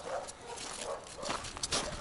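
A dog on a leash gives a couple of short barks and yips close by over a brief outdoor moment, with some background noise.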